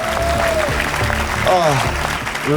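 Audience applause at a comedy league show, dense continuous clapping filling the room while a presenter talks over it.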